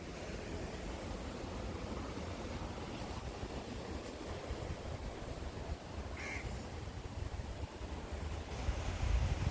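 Sea surf rolls steadily below Khanderi fort off Alibag, a soft, continuous wash of waves mixed with wind rumble against the microphone, with a brief crow caw rising faintly partway through.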